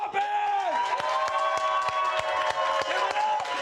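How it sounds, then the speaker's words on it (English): A live crowd at a comedy roast erupts in raucous applause, with dense clapping, whoops and cheering voices rising over one another at full volume. "the big raucous round of applause for Mama Poppin!"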